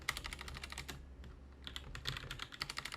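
Rapid clacking of keys on a computer keyboard, in bursts with a brief pause in the middle, close and fairly quiet.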